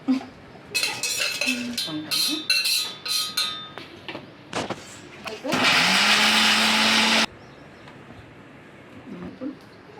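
A mixer grinder grinds cumin seeds, whirring loudly for about two seconds in the middle, after clattering of dishes and utensils, with faint talk around it.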